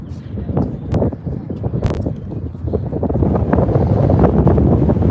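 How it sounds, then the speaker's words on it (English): Strong wind buffets the microphone in steady gusts at an outdoor high school boys' lacrosse game, a loud roaring rumble that keeps building toward the end. "Wind starting to pick up here at Pope John High School"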